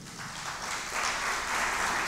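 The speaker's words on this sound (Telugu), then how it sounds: "క్లాప్స్ కొట్టండి దేవుడికి." A church congregation claps for God during a Telugu sermon, a dense, steady wash of many hands filling the room for about two seconds, with a voice faintly under it.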